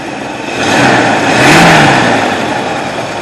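A carbureted Ford Mustang engine running loud and close, rising into a rev around the middle and then easing back to a rough, steady roar.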